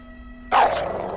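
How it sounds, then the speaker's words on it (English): A dog in Call of Duty Modern Warfare II gives a single sharp bark that comes in suddenly after a quiet tonal hum, then fades into a short tail. "That's the dog from the bedroom."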